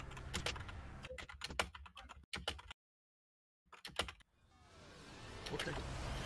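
Fast, forceful typing on a computer keyboard comes in dense bursts of sharp clicks, broken by a brief silent gap, close and faint.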